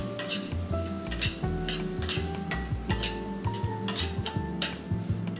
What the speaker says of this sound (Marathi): तर रवा आपल्याला छान असा भाजून घ्यायचा आहे